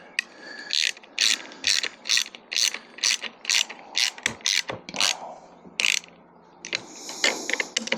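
A hand ratchet clicks in quick, repeated bursts while tightening bolts on a plastic kayak motor mount, the close, crisp pawl clicks coming in steady strokes with brief pauses between them.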